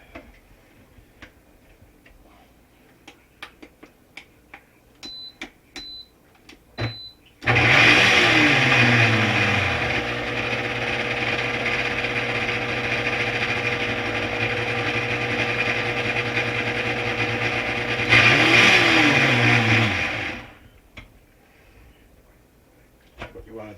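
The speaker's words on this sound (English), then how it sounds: "And we're going to blend this." A blender runs loudly and steadily for about thirteen seconds, mixing Dutch baby batter with flour, cinnamon and salt, with a surge as the motor revs near the end, preceded by soft kitchen clicks and beeps.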